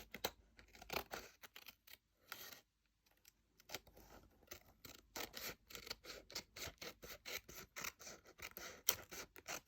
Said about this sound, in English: Trim it up with my paper snips.